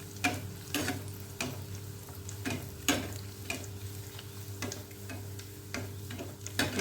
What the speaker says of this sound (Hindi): इस तरह से ऊपर से हम तेल को देते रहेंगे और इसे इस तरह से फ्राई करेंगे।